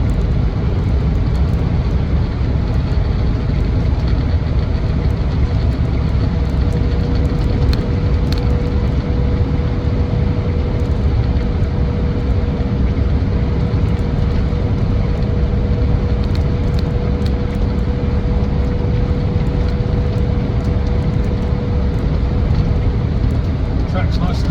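A Land Rover Defender 90 TDCi XS station wagon cruises at 60 mph, filling the cabin with a loud, unbroken drone of engine, tyre and wind noise, while a voice speaks over it.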